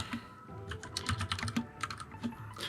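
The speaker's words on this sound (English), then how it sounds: "Ducky keyboard just does a really good job of making the best sounding implemented Cherry MX switches on a keyboard" Typing on a Ducky One 2 keyboard with Cherry MX switches, a quick irregular run of crisp, close keystrokes with soft thocks, quiet and alone.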